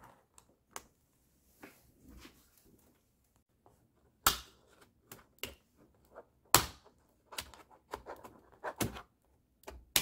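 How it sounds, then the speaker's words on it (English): Keyboard of a Lenovo ThinkPad T570 laptop being pushed forward and lifted off during a repair: scattered sharp, close plastic clicks and snaps with quiet gaps and no talking. "I'm going to take this keyboard off. I think we'll just push it forward."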